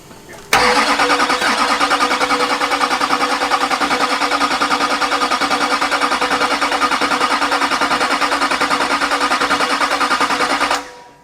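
A junkyard Duramax diesel truck engine cranks and fires up abruptly, settling into a loud, steady, close-up diesel clatter that runs unbroken for about ten seconds before cutting off.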